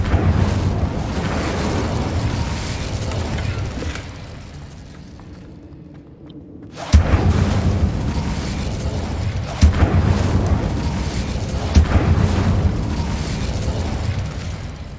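An Incendio fire spell cast in Hogwarts Legacy: a loud, rumbling, blast-like roar drops into a brief hush, then erupts again with a heavy boom and a sustained fiery rush marked by a few sharp pops.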